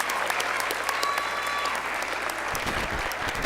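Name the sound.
audience applause at awards ceremony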